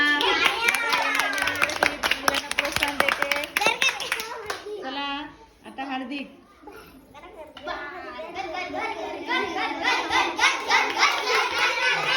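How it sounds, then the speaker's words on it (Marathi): Children clap their hands in bursts of quick, uneven claps, with children's voices chattering throughout and a brief lull midway. "टाळ्या वाजवा"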